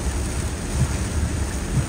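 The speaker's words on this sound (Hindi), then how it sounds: "अचानक से तेज बारिश स्टार्ट हो गई है जी" Heavy rain pours down at night at a house, a dense, steady roar of falling water with a low rumble, loud and continuous with no voices.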